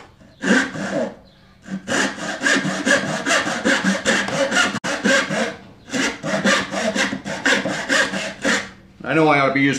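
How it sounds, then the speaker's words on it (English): A dovetail saw cuts wood in quick rhythmic back-and-forth strokes, rasping loudly and up close in two long bursts separated by a short pause, with a brief voice at the very end. "I have this weird thing where I have to cut every part of the dovetail with the dovetail saw."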